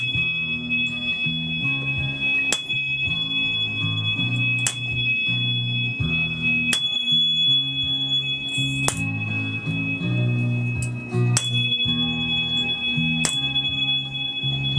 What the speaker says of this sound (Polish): Utwór numer 3 to tonacja E i tu biorę dwa kamertony razem